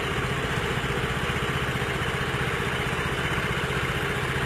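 A motorcycle engine idles steadily at close range, a low, even rumble with a fast regular pulse that holds unchanged throughout.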